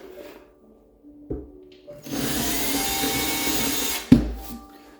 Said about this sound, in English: I'm going to drill a slightly bigger hole to recess the screw head.